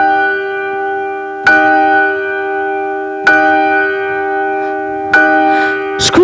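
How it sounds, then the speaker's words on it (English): Three loud, ringing strikes of a large church bell, evenly spaced about two seconds apart, each leaving a long humming decay, with a faint rustle beneath and a sharp clatter at the very end. "The bell struck 12."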